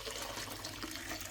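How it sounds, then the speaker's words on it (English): Thick homemade chicken and leek soup stock is poured into a colander to strain, giving a brief, steady wet splashing and trickling rush up close. "we're going to pour this into the colander and strain the rest of it"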